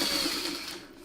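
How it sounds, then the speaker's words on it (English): A sewing machine stitching a small fabric piece onto a mini lantern, giving a fast, steady whirring hum for a brief moment that fades slightly toward the end. "So I can sew it with a little piece on top."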